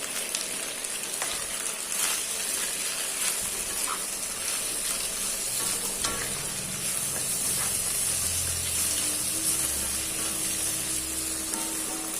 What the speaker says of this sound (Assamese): মই মাছৰ পেটু মাথাখিনিও একেলগে ভাজি দিলোঁ